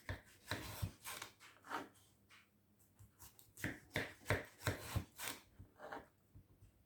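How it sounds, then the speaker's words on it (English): A knife cuts a melon into sections for fruit salad, with a series of close, crisp slicing and scraping strokes in an uneven rhythm and no talking. "And then I just slice it into sections like this."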